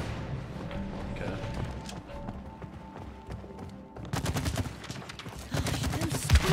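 Rapid bursts of gunfire from the It Takes Two video game, the firing starting sparse and then breaking into dense continuous rattling volleys, loud and close, with only faint traces of voice.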